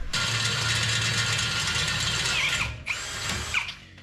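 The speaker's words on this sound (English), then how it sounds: "So 3 more holes. Hopefully my drill bit makes it." A power drill bores a hole in a steel steering knuckle arm on a Jeep Comanche, whining close and steady at full speed, then briefly pausing and restarting with squealing bit chatter toward the end.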